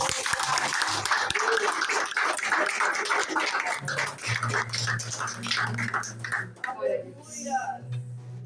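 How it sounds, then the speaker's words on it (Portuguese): A church congregation at a healing and deliverance worship service claps, a rough burst of applause mixed with voices that fades after a few seconds into sustained organ-like tones and a speaking voice. "Cadê as palmas para Jesus?"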